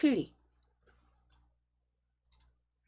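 A computer mouse clicks during an Excel lesson: a brief voice at the start, then a few faint, isolated clicks spaced apart in a quiet room.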